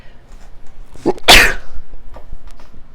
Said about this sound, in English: I apologize for the sneezing.